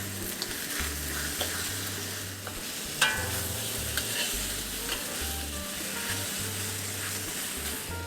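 Chicken and spring onions fry in a pan of oil with a steady, dense sizzle, broken by occasional stirring scrapes and taps of the utensil.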